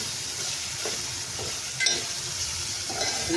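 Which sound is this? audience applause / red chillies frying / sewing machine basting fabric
red chillies frying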